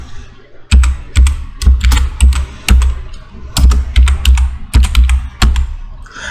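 Fingers typing a Docker command on a computer keyboard, a close, crisp run of uneven key taps and clacks with short pauses between bursts, no talking.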